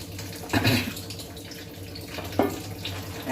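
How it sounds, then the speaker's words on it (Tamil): Water runs and splashes into a cooking pot of rice in short bursts, with a steady background hum and a couple of louder pouring surges. "ஒரு பங்கு தண்ணி ஊற்றுனேன்"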